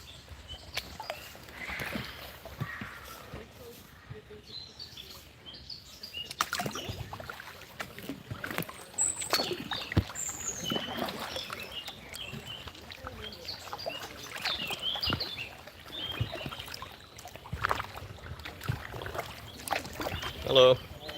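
People paddling kayaks on a river: soft, irregular splashes and drips of paddle strokes over quiet outdoor ambience, with faint voices now and then.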